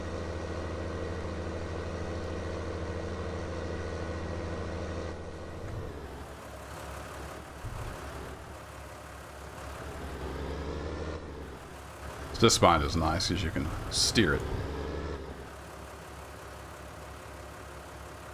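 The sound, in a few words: small Ford tractor engine running in Farming Simulator 19 video game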